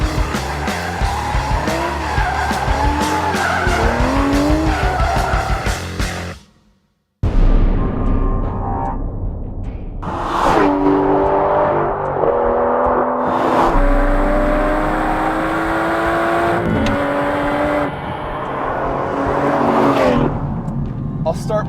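A 2015 Aston Martin V12 Vantage S runs a figure-8 lap with a loud, steady engine drone and tire noise that rises and falls as it corners. A brief gap cuts in before the sound resumes, with a voice at times over it.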